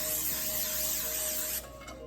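Butter spray hisses steadily from an aerosol can into a 9.5 by 9.5 inch cake pan, one continuous close burst that cuts off abruptly near the end.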